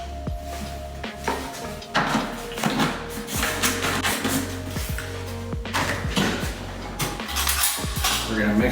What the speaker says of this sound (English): We're going to mix this all together nicely to incorporate the protein powder